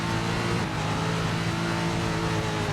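In the SRX racing video game, a race car engine holds a loud, sustained, droning rev that runs unbroken and close throughout the short stretch.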